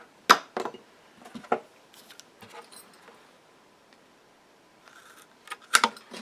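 Scissors or a blade cutting through a belt strap for a Hylian Shield cosplay, a few sharp snipping bursts near the start and again near the end, with quieter handling noises in between.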